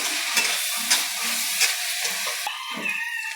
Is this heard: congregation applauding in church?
no